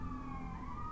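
Emergency vehicle sirens sound a block from a police station and fire hall, a sustained wailing tone gliding slowly upward over a low rumble, fairly distant, no voices.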